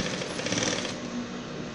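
A sewing machine runs steadily through a jeans waistband, a fast even mechanical whirring and clatter held close and fairly quiet for under two seconds with no talking.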